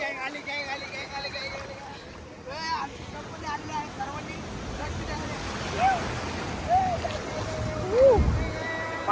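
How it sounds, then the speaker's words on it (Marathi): Sea waves wash and break on a Konkan beach, a steady rushing surf that stays loud and close throughout, with voices calling out over it. "बघा काही लाटा कशी येते रे"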